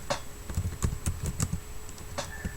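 Typing on a computer keyboard while building a calculator program, a quick run of light, irregular key clicks close by with no talk.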